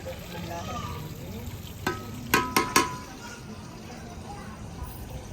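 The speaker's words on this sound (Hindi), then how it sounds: "घी हमारा गर्म हो चुका है, तो अभी जो है मैं हरी मिर्च और प्याज ऐड कर रही हूँ" Green chilies and onion hit hot ghee with a continuous fry, and a quick cluster of three sharp clatters rises near the middle, close and clear over the hiss.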